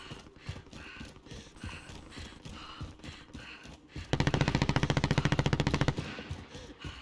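Rapid automatic gunfire in the Warzone video game, a tight burst of evenly spaced loud shots lasting nearly two seconds over a busy game soundscape, with scattered quieter background sounds before and after.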